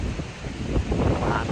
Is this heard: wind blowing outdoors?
yes